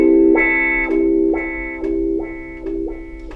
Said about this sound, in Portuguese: E simplesmente fiz a aberturinha do auá assim